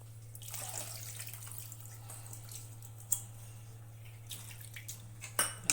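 Tamarind water poured into a cooking pot for a banana-flower dumpling curry, a soft running, trickling stream of liquid with faint splashes and a few small clinks near the end, no talk.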